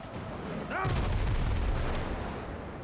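Cannon warning shots booming from ships in Windrose, a rising whistle followed by a heavy deep blast that rumbles and decays over a couple of seconds against steady sea ambience.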